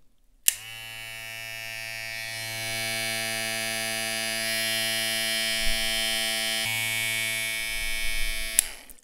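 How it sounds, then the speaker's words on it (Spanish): A ZSZ Barber N99 hair clipper switches on with a click and runs with a steady, even electric buzz for several seconds, then clicks off near the end. "Vamos a encender esta máquina a ver qué tal."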